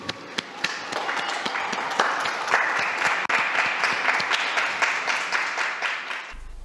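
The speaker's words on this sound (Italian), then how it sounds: "E un applauso a tutti i nonni" Audience applauding the grandparents at a gathering: dense, steady clapping from many hands, fairly close and sustained for several seconds, then cutting off abruptly.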